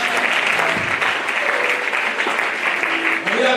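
A church congregation applauding during a Sunday service, dense sustained clapping throughout with voices mixed in under it.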